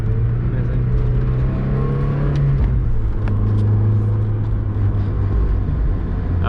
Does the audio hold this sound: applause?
no